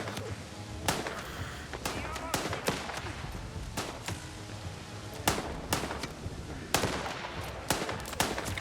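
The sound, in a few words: sniper gunfire in the video game Last Train Home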